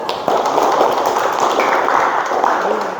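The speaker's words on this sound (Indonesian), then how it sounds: "Kita beri tepuk tangan dulu" Classroom applause in a mechanical engineering lesson, a dense, even wash of clapping hands lasting a few seconds, close and fairly loud with no talking over it.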